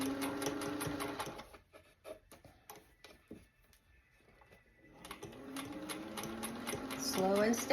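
A vintage Singer 201 sewing machine stitches a designer outfit, its rapid rhythmic ticking running in close bursts with a slower pause in the middle, and talk mixed in over it.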